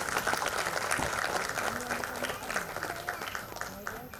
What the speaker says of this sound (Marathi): जरा जोरदार टाळ्या श्वेताजींसाठी.